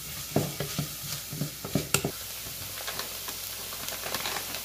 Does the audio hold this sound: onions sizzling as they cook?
yes